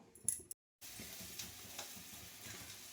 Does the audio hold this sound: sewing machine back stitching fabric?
no